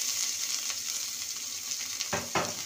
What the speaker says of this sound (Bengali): আর আদা বাটাটাকে ভালো করে ভেজে নেব।